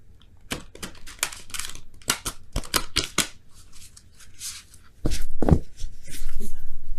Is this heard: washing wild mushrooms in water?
no